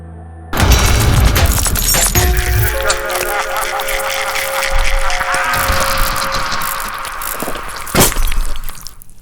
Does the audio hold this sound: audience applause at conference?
no